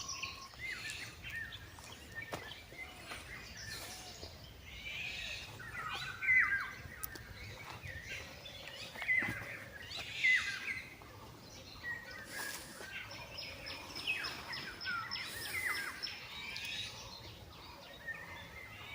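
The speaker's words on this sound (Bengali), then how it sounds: "পাখির ডাক" Birds call and chirp in a natural hill forest near Susunia, with scattered tweets and short trills at moderate distance over quiet background, some calls closer and louder than others.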